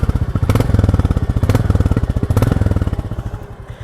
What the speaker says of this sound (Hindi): थोड़ा रेव करते हैं।